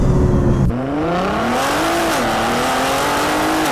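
A 2017 Nissan GT-R R35 launches and pulls hard, its engine note climbing steadily through a long loud run with a brief dip at a shift, the car close and dominant with no talk over it.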